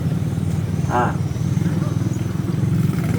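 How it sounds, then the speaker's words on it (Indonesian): Motorcycle engines idle and rumble continuously at an outdoor Dayak show in West Kalimantan, with a crowd and voices talking over the steady engine drone. "Motornya jangan kasih nonton juga Pak."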